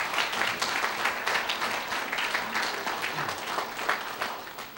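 Scattered audience clapping at a church gathering, a ragged patter of many hands with uneven bursts and swells, fairly close throughout.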